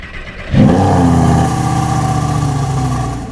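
Lamborghini V10 engine bursting to life after a quiet moment, then revving hard and settling into a loud, throaty rumble close by.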